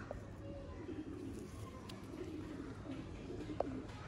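Pigeons coo softly in a breeder's loft, low repeated calls set against steady background rumble and faint voices.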